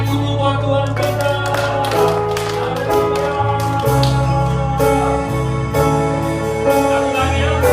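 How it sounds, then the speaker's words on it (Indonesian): A church congregation claps along during worship, with taps and claps running under loud sustained music with bass and keys over nearly eight seconds. "Tepuk tangan dulu buat Tuhan kita."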